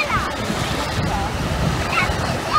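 Baltic Sea surf rolls onto the beach at Jantar in a steady, continuous wash of breaking waves with wind buffeting the microphone. A voice is faintly present underneath.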